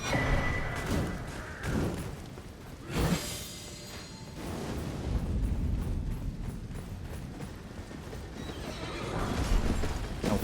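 Horse in the Elden Ring video game neighing loudly, followed by clip-clopping hooves and game sound effects, with swells of ambient noise and no talking.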